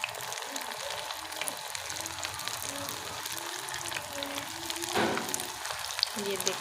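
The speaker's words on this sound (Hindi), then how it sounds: "इसी तरह हमने अच्छे से फ्राई करना है इसे।" Chicken or potato rolls fry in a pan with a quiet, continuous sizzle and occasional crackles, with a soft voice speaking over it.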